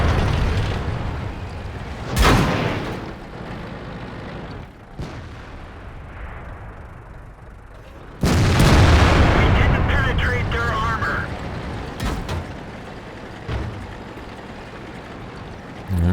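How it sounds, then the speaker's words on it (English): A Jagdtiger tank gun fires in the World of Tanks video game, a heavy booming blast with a rumbling tail amid other distant shots and engine drone, while someone talks over the game sounds. "Let's wait for this Jagdtiger to fire. It's fired."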